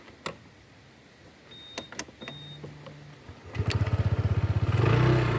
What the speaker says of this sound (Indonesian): Sampai di sinilah mesin motor kembali kita hidupkan di menit ini